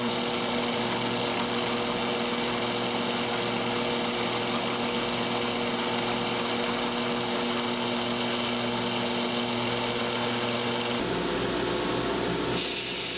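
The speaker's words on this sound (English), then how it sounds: "I'm going to drill the pinholes." A drill runs steadily and continuously while boring pin holes in flat straight razor scales. The tone stays even and close, and the pitch shifts near the end.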